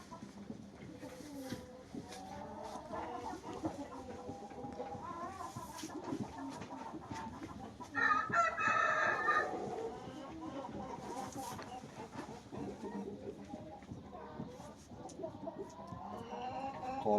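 A rooster clucking and giving a crow amid a noisy yard, with people talking throughout and the crow standing out briefly in the middle.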